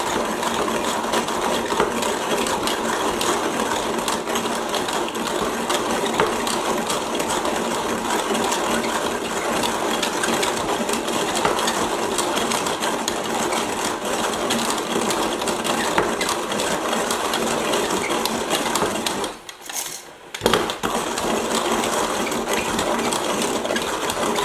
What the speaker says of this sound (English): then you set it down to the lowest setting on the Zassenhaus grinder, and then we'll just grind it.